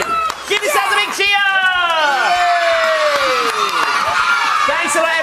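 Audience of children at a live kids' show cheers and whoops, loud high shouts with sliding pitch layered over crowd noise, close and sustained for several seconds.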